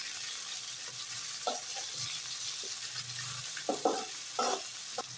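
Loitta and ribbonfish dried fish (shutki) frying in oil in a pan, a steady quiet sizzle with occasional spoon stirs and scrapes breaking through, no voices.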